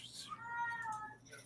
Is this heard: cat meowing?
yes